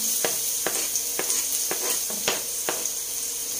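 Garlic sautéing in a frying pan with ginger for pork estofado, a steady close sizzle broken by a series of sharp clicks as a utensil stirs against the pan; no voices.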